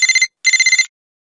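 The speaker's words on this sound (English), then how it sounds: "A phone sounds like this." Loud electronic telephone ring from the Curious George Secret Agent George video game: two trilling bursts with a short gap between them, then silence.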